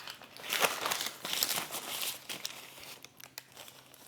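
A greenish Burger King Impossible Whopper wrapper crinkles and crackles up close in quick bursts of rustling paper handling, louder at first and then tapering off into lighter crinkles.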